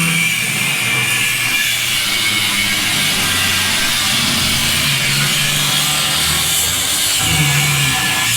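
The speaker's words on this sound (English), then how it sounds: "while Adrian rips off those back brackets, he's just grinding them off" An angle grinder cuts off the rear brackets on a Dodge Dakota during a lowering kit install, producing a loud, continuous, harsh grinding whine that stays steady throughout.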